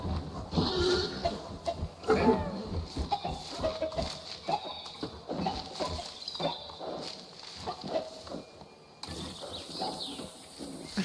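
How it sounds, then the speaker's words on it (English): Dinosaurs in a Jurassic World video game give repeated chicken-like clucks and squawks, irregular bursts over clicking, ratcheting mechanical game noises, with no speech. "Are they the ones that are clucking like chickens?"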